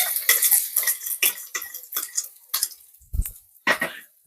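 Sliced shallots and garlic go into hot oil and are stirred: a steady run of bright metallic clinks and scrapes from a utensil against the pan, with a faint sizzle underneath and one dull knock near the end.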